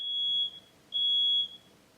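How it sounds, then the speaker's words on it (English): A smoke detector set off by food left too long in the oven gives two shrill, piercing beeps, the second longer, with a short gap between them. "And so the smoke detector was like, bitch, come get it."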